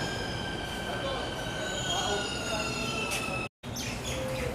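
A Delhi metro train runs steadily, its wheels squealing with sustained high tones over a constant rolling rumble heard from inside, with a brief dropout near the end.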